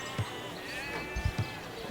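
Sheep in the video game Divinity: Original Sin bleat a few short times over a steady background of game music and ambience, with someone talking.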